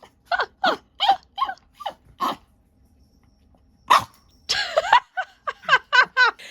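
A dog vocalizes in a string of short, close barks and whiny yelps, a burst of several near the start, a pause, then another rapid run of yips toward the end, with no one talking over it.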